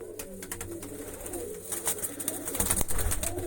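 Soft, low pigeon cooing close by, repeated in short rounded calls, with light rustling and flutter in the background.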